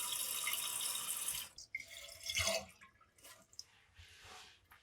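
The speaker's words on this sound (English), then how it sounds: "That's a very weak flush. It didn't let enough water down." Water running into a toilet tank after a weak flush, a fairly loud rushing flow that stops, followed by quiet trickles and a few soft drips.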